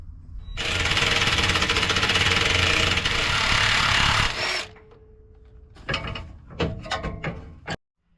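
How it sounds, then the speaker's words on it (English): 15mm sway bar bolts being removed under a Jeep Wrangler JL, a loud sustained whir of a power tool running for several seconds, then a series of short metallic ratcheting bursts and clanks, close up. "Take the two bolts out and drop the sway bar."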